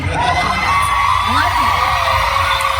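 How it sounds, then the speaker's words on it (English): An audience at a 25th anniversary gala screams and cheers loudly and without a break throughout, with a voice carrying over the roar. "Come on, scream it."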